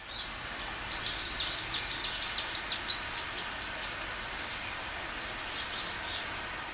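Small birds sing in a wooded hotel garden on Jeju, a run of bright repeated whistled notes close by for a few seconds, then softer scattered calls over faint steady outdoor ambience.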